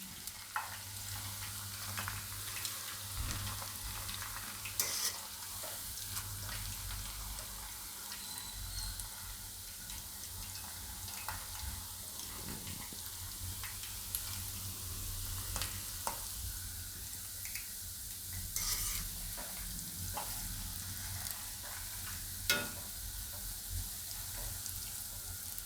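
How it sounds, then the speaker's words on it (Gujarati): Moist boiled noodles go into hot oil a few at a time and fry until crispy. A quiet, continuous crackling sizzle runs throughout, with occasional sharp pops and stirring clicks and no talking. "આને આપણે એકદમ સરસ ક્રિસ્પી થાય ત્યાં સુધી તળવાના છે."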